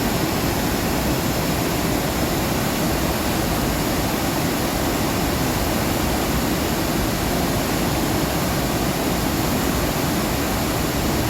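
A waterfall or rapids roars in a dense, unbroken rush of water, loud and steady throughout with no voices.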